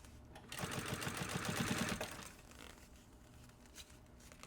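A sewing machine runs in one fast burst of rapid, even stitching on a puffer backpack, sewing a visible topstitched seam, then stops, leaving quiet room noise.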